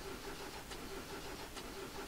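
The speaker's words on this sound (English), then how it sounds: "the car barely is fucking starting" Nissan R32 engine cranking in the SLRR driving game, struggling to start, with a steady mid-pitched churning hum and two faint clicks.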